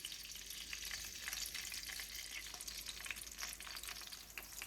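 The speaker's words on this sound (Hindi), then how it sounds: "इन कबाबों को फ्राई कर लेते हैं।" Chicken seekh kebabs frying in hot oil, a faint but continuous crackling sizzle with dense small pops throughout, no voices.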